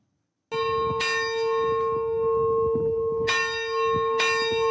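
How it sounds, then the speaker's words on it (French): A temple church bell rings in a village on a Polynesian island, with sustained strikes whose tones hang and overlap. The strikes come roughly every second or two, loud and close, with no talk. "les habitants arrivent au son de la cloche du temple"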